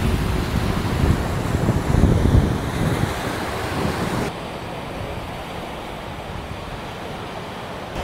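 Strong ocean waves surge and crash onto Patong Beach in Phuket, Thailand, in the rainy season, a loud roaring wash that eases slightly partway through, with wind buffeting the microphone.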